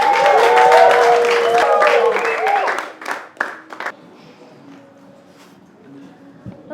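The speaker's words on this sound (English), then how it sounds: "give it up with a round of applause for Violet" An audience gives a round of applause for a performer named Violet, the clapping loud and dense for a few seconds before dying away into scattered claps and quiet.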